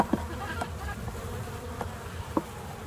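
Honey bees in a package box set beside a hive hum in a faint, steady drone, broken by a few soft knocks and taps of handling, with no talking.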